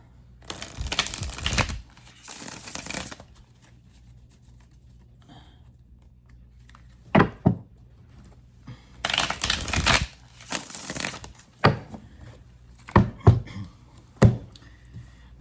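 Bursts of riffling tarot card shuffles, crisp and close, separated by pauses and a few sharp taps of the deck, with no talking.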